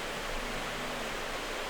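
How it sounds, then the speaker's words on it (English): A year-round double waterfall on a trail at Rattlesnake Gulch pours as a steady, broad hiss of rushing water, brief and fairly faint, with no voices. "Year-round waterfalls, double waterfalls."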